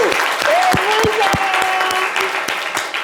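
Steady applause from an audience, dense clapping with some sharper individual claps, while a voice hums or sings along over it.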